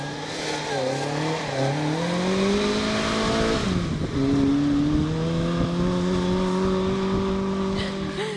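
A Mini rally car driving flat out on a special stage, its engine note rising and falling loud and close as it revs through the gears, with a brief dip around the midpoint before climbing again.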